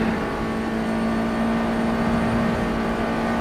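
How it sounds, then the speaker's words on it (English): A USF2000 race car at Watkins Glen in rFactor 2 hums steadily with a strong, unbroken engine drone and a buzzing vibration running through the chassis on worn-out tyres. "There's a hell of a vibration going down the middle of the car"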